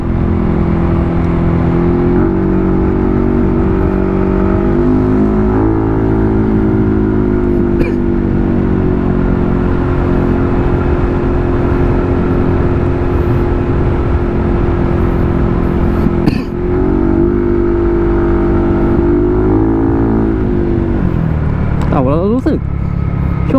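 Yamaha NMAX scooter ridden gently during break-in, its engine a steady, loud droning hum with slight rises and falls in pitch as throttle changes, running continuously under wind noise.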